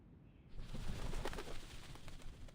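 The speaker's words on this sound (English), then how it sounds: "Sound of flapping wings fills the air." Doves cooing at the Whitestone House in Reverse: 1999, a soft, steady, near chorus of coos with a faint rustle, rising suddenly and holding at a fairly constant level.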